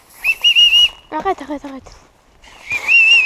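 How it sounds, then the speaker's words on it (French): Shrill whistles made by blowing across a piece of acorn, two bursts of wavering high tone separated by a short stretch of speech, loud and close. "j'ai réussi à siffler avec un gland"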